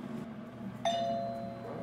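A home doorbell chimes once, a single clear electronic tone that rings out and slowly decays over quiet room background.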